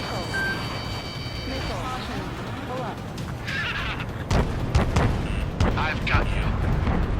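Heavy bomb blasts in the Ace Combat 7 jet combat game: a deep rumbling roar that swells into a string of booming detonations over continuous engine drone, with radio chatter running underneath.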